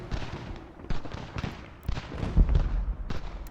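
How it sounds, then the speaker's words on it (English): Cannon artillery fire in Ultimate General: Revolution, a rapid series of booming shots and crackling volleys in irregular rhythm, some near and punchy, others softer in the distance. "Artillery's doing, I think, an outstanding job"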